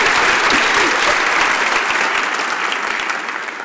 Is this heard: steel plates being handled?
no